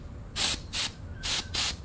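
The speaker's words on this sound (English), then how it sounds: "I got this can of snow from the reject store." Aerosol can of artificial snow sprayed onto a Christmas wreath in four short, loud hissing bursts, close up, with quiet gaps between them.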